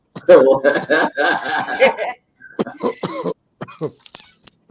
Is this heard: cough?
yes